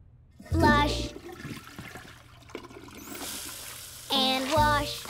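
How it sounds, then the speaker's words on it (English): A toilet flushes in a children's cartoon, a brief rushing swirl of water heard between two short sung phrases, close and moderately loud. "Flush and wash and be on your way."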